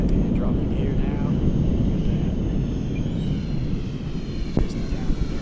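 E-Flite A-10 Thunderbolt twin 64mm EDF model jet making a pass over a grass field, a steady loud ducted-fan roar sustained throughout, easing slightly near the end.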